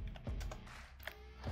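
Quick, quiet taps on a computer keyboard as a word is typed into a search box. The keystrokes come in a rapid, close run with no talking.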